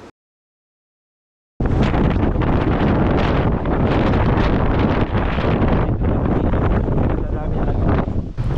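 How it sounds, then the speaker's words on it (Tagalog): Strong typhoon wind roars and buffets the microphone in a steady, loud rush after a brief silent start, with gusty fluctuations throughout, after the rain has stopped. "Wala nang ulan pero malakas ang hangin."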